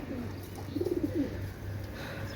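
Pakistani high-quality pigeons, a paired couple, give a short burst of soft low cooing mid-clip, close by over a steady low background hum, with no talking.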